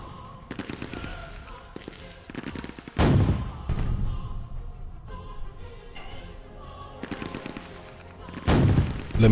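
Repeated bursts of gunfire from a turn-based WW2 tactical video game, loud sharp volleys and heavy booms spaced through the stretch with rumbling pauses between them, no talk over the shots.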